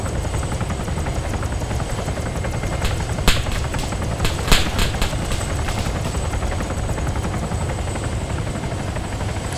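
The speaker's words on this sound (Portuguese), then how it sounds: "Esse helicóptero é ruim." A helicopter in the video game Arma 3 makes a loud, continuous rotor and engine roar that stays steady throughout, with a couple of sharp clicks or shots cutting through it.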